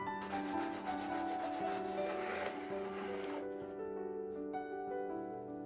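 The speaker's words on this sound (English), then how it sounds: "With a bit of sandpaper on the tabletop," Sandpaper on a tabletop rubs against the edge of an eggshell in steady, close, fairly quiet scratchy strokes, with a few light knocks at the end.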